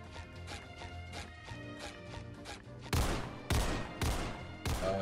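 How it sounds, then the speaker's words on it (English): Several loud gunshot bursts in the video game Criminality, about four sharp blasts in the second half, over a busy game soundtrack with music and background effects. "I just heard gunshots."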